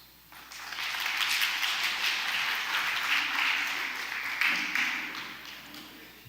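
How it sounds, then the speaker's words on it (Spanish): A seminar congregation breaks into sustained applause, a steady wash of many hands clapping at a distance, moderately faint with a slight surge near the end. "Denle un aplauso."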